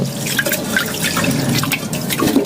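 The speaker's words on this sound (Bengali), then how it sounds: "চালটা ধুয়ে নিচ্ছি" Rice being rinsed in water at home, with continuous trickling, dripping and sloshing close by and steady throughout, no voices.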